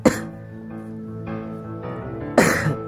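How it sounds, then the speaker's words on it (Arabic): Two distinct close coughs, one at the start and one near the end, with a quiet humming drone in between and no speech. "شوف هذا انت كحيت"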